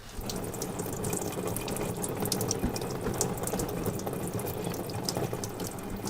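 Coolant splashes and trickles steadily as turbo lines come off an RB25 engine, a continuous close spattering wash with faint metallic clicks from tools mixed in.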